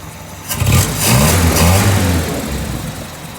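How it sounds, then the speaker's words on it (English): A 1949 Jeepster engine starts and revs up, then settles into a steady, smooth idle, loud and close. "the car is running fabulous. I mean, it runs the way it should run."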